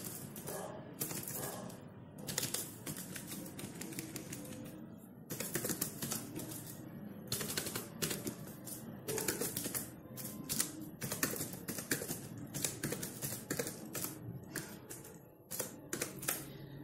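Numbers are typed into an Excel spreadsheet on a computer keyboard, producing close, crisp key clicks in quick irregular bursts separated by short pauses, with no talking.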